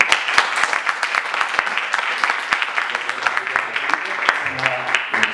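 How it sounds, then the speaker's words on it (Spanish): Audience at a talk on Tolkien's work applauding the speaker, dense steady clapping from many hands with sharp individual claps standing out close by, and a few voices murmuring underneath. "Un aplauso para ti."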